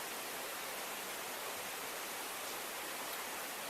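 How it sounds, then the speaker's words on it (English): Jones Branch, a creek along the Appalachian Trail, rushes and burbles as a steady, even wash of water noise close by, unbroken and without voices. "You can also hear that bubbling creek called Jones Branch"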